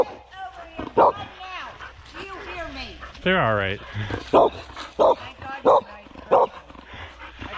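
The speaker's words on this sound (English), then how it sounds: "I got dogs." Dogs on a forest bike trail bark in a series of loud, close woofs with a brief whine, while someone talks over and between the barks.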